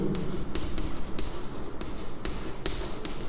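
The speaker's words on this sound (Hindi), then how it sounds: "तो मैं लिखता हूँ" Pen or pencil scratches on paper in short repeated strokes, close and fairly clear, with a few sharper taps between the strokes.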